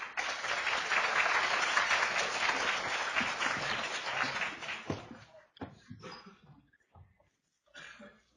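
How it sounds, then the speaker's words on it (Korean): An audience applauds as a physics professor is welcomed to a lecture explaining the 2018 Nobel Prize in Physics. Dense, steady clapping fills about five seconds, then fades into scattered coughs and a few faint rustles before a short final burst. "큰 박수 부탁드립니다"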